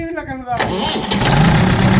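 Someone speaks, then a 50-year-old tractor engine cranks and catches, settling into a loud, low chugging idle close by.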